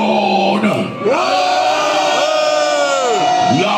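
A death metal concert crowd in a club in Colmar roars and screams for a band, a dense sustained wall of voices with wavering yells sweeping up and down.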